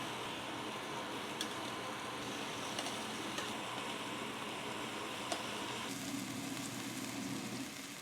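Beef slices for bistek sizzle steadily as they fry in a pan, a constant broadband crackle with small pops, close and even throughout; a low hum joins near the end.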